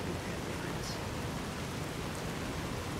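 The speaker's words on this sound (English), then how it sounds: "Wow, this rain!" In Fallout New Vegas, heavy rain pours down as a constant dense, even hiss that fills the whole scene without a break.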